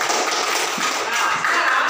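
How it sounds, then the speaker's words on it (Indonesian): A brief burst of classroom applause for a student group: dense, even clapping from many hands, close and steady for under two seconds. "Tepuk tangan untuk kelompok 2."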